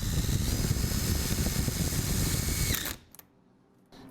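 Power drill driving a drywall screw into an engine seal on a 1976 Triumph TR6, a loud, close, steady whirring buzz for nearly three seconds that stops abruptly, followed by faint clicks and quiet.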